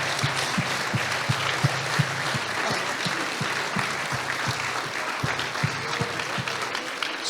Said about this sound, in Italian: Salutiamole con un applauso.